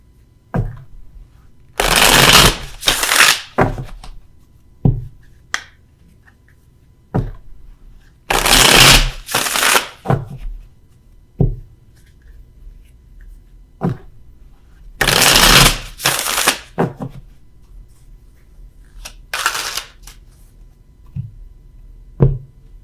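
Tarot cards are shuffled in three loud bursts of rapid riffling, separated by quieter stretches of scattered taps and card handling, all up close with no talking.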